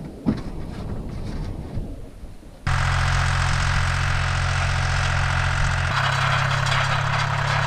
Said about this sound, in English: the guy on the tractor is still working